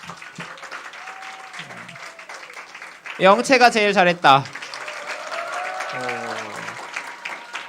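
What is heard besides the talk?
audience applause for group presentations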